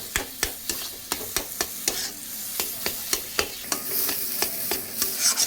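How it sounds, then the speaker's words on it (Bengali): A spatula stirs a paneer and potol (pointed gourd) mixture in a pan for dorma, about twenty sharp rhythmic scrapes and taps over a soft, continuous sizzle, close up with no talking. "এবার কিন্তু আমি দুটো একসাথে ভালো করে এরকম মিক্সড করে নেবো"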